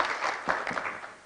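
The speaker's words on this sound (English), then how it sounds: "We can clap for them," An audience claps at a nursing college graduation ceremony, a short burst of mixed, fairly close applause with uneven individual claps.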